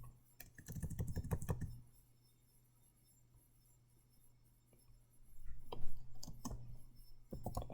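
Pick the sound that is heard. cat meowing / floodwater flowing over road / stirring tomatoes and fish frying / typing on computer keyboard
typing on computer keyboard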